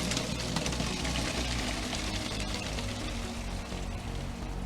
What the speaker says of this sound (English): Gonna strain our pasta so we can get to the next step.